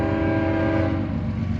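A freight train rolls past at Greenwich, heading toward Cleveland, with a sustained low engine rumble and a strong tonal horn-like drone, loud and close, with no talk.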